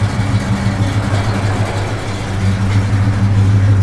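A 1971 Oldsmobile 442 engine idles nearby, a steady low, even rumble with no revving.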